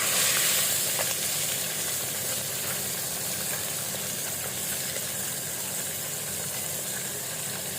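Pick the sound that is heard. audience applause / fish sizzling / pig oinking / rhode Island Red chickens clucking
fish sizzling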